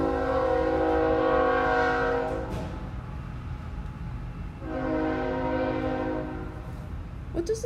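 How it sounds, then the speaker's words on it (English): A diesel train passes outside and sounds its horn in two long, loud blasts separated by a pause, with rumbling rail noise underneath. "A train out there burning hydrocarbons."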